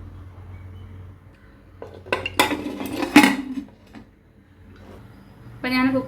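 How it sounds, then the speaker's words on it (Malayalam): A pressure cooker holding mutton biryani is being shut, with a run of metallic clanks and scrapes of the lid and pot in the middle and a brief clatter near the end, fairly close. "ഇനി നമുക്ക് കുക്കർ ക്ലോസ് ചെയ്യാം."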